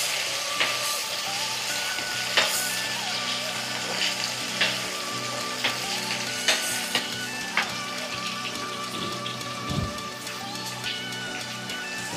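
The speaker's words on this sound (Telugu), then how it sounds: "ఇప్పుడు ఇందులోకి ఒక టమాటా స్లైస్గా చేసుకుంది వేస్తున్నాను" Sliced onions and tomato fry in a pan with a steady, dense sizzle and crackle, and occasional louder pops and clinks run through it; no one speaks.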